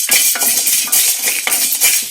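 Chana dal and dry red chillies roast in a pan, stirred with a brisk, rhythmic scraping and rattling of the dry pieces against the metal, close and loud.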